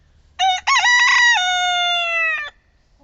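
A rooster crows once, a loud, close, drawn-out cock-a-doodle-doo in open farmyard quiet, with a stuttering start, then a long wavering tone that fades away.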